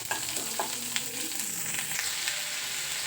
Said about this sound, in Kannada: ಇದಕ್ಕೆ ಚೆಕ್ ಲವಂಗ ಫಸ್ಟ್ ಪಾಡ್ದೆ ಫ್ರೈ ಮಾಡ್ತೀನಿ ಒಂಚೂರು ಫ್ರೈ ಆಗೋದು